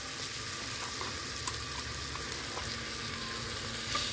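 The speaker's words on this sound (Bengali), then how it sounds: "এটাকে একটু নাড়িয়ে চাড়িয়ে নিয়ে এর মধ্যে দিয়ে দিতে হবে আদা রসুন বাটা।" Spices and ginger-garlic paste fry in oil for a mutton curry. An even, close hiss of sizzling is heard throughout, with a few small ticks and pops.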